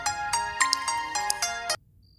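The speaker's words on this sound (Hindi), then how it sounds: "विनय का ही फोन आ रहा है।" A phone rings for an incoming call with a bright, melodic ringtone in quick repeated bursts. It is loud and close, then cuts off abruptly after nearly two seconds, leaving near silence.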